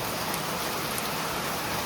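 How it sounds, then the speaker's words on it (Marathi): Heavy rain pours down in a dense, constant hiss of drops on surfaces, loud and unbroken, with no voices or thunder. "किती पाऊस पडतोय. खूप जोरात आलाय बघा."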